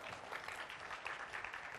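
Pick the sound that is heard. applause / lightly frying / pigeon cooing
applause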